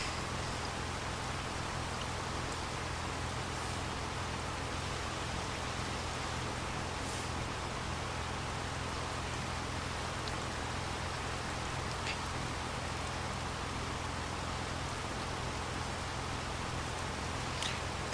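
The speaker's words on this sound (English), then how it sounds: "Some rain." Steady rain in the Farming Simulator 25 video game, a continuous even hiss with faint scattered drop ticks that holds throughout.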